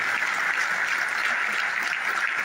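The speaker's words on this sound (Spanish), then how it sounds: "Así que también el aplauso y el homenaje a Alejandro Castillo." Audience applause fills a municipal theatre during a tribute to basketball greats in Bahía Blanca, a dense, steady wash of clapping that holds evenly throughout with no voices rising above it.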